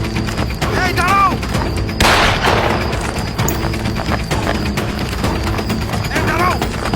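Gunfire in a dramatized police shootout with robbers: a heavy boom lands under a continuous dense bed of music and effects, with voices talking throughout and siren-like warbles rising briefly.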